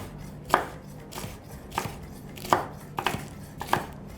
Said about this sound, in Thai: ขั้นตอนต่อไปเราจะทำการหั่นพริกชี้ฟ้าเหลืองนะฮะเพื่อให้เราตำได้ง่ายขึ้น